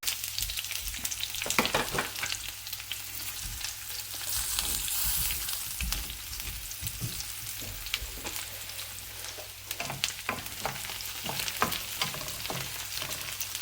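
Loud, crackling sizzle of garlic and green chili sautéing in hot oil, punctuated by repeated stirring clatters, with no speech.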